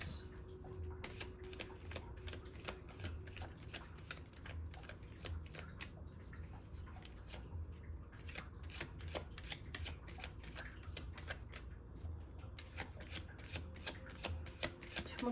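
Tarot cards shuffled steadily and up close, a dense run of soft riffling snaps and slaps lasting throughout with no talk over it.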